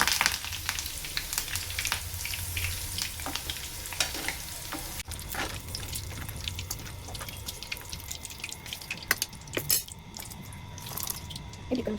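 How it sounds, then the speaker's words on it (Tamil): Chicken 65 pieces deep-frying in hot oil with curry leaves, giving a steady loud crackling sizzle throughout, with scattered sharper pops and occasional stirring clinks of a utensil; no one talks. "கருவேப்பிலை போட்டு பொரிச்சிட்டு"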